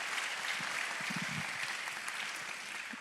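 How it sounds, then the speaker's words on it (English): Audience at a fifth grade graduation ceremony at The Shlenker School gives a steady, continuous round of applause, dense clapping sustained evenly throughout with no voices standing out. "Please give her a round of applause."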